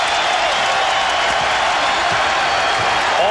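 A Seattle basketball arena crowd at a 1995 playoff game roars continuously on its feet, a dense, loud wash of cheering with no breaks.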